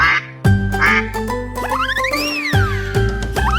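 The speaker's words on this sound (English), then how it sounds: "Mama duck said, quack, quack, quack, quack." A cartoon duck quacks in a children's nursery rhyme about five little ducks, loud and repeated with bouncy, springy effects over upbeat music, the quacks sliding and warbling across the song.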